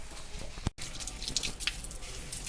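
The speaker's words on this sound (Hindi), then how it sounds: "तो गाइस हम लोग पानी ऊपर डालने आए थे और पानी ऊपर डाल रहे हैं।" Water poured onto plants trickles and splashes steadily, with a few brighter drips, fairly quiet and close, with no talking.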